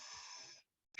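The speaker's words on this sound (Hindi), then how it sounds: "आपके निकलने, सांस निकलने की आवाज भी सुनाई दे रही है" Breath pushed out during a yoga breathing exercise, a steady airy hiss for over half a second, then a short pause and a sharper breath burst at the end, close and fairly quiet.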